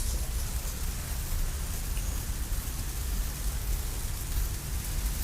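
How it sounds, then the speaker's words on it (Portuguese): Steady rain falls in a continuous broadband hiss, loud and close with no gaps, the kind of downpour that drums on a surface nearby; no voices are heard over it. "Gente, essa chuva."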